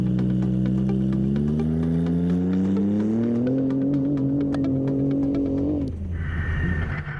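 Rally cars launch from the start line on a warm day at the 2019 St George 399 rally, one engine revving loud and near, pitch climbing through the gears before backing off.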